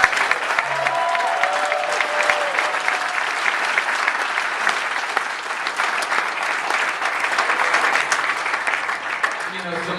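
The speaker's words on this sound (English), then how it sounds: "Let's first all show our love for this movie with a round of applause." Sustained applause from a large audience at a film panel discussion, dense clapping that stays steady and loud throughout.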